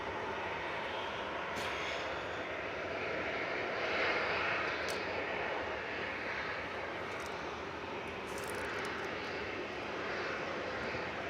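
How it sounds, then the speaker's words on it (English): A Jet2 Boeing 737-800 at Manchester Airport gives a steady, broad roar of jet engine noise, distant yet constant, with a slight swell midway and no voices. "this is Jet2 off to Verona, 737-800, GDFX, flight 985"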